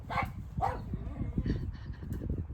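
Pet dog outdoors near cows, giving a few sharp close barks mixed with yips and whiny vocal sounds in quick succession.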